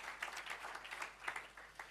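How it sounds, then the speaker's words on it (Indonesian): Scattered applause from a church congregation, a loose wash of clapping at moderate distance with no single dominant rhythm, continuing steadily for a couple of seconds. "Kita beri tepuk tangan buat Tuhan."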